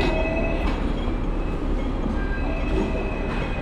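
A tram rumbles steadily past on the rails close by on North Street, Kennedy Town, Hong Kong, a continuous heavy roar with faint squealing wheels and no voices.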